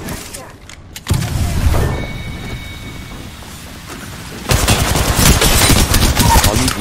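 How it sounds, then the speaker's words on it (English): Gunfire in the battle royale game Apex Legends: dense, loud bursts of shots and a rapid fusillade, with crackling, rain-like noise under occasional talk. "Activating shotgun."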